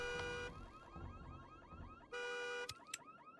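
A car alarm blares in the horror game Visage, its repeating electronic whoops cycling loudly and steadily, breaking off briefly and resuming before a few sharp knocks.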